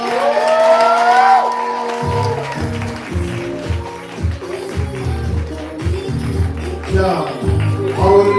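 Live poetry-show audience cheering, whooping and clapping for the next poet, a loud crowd swell under a host's amplified voice and music, rising again near the end.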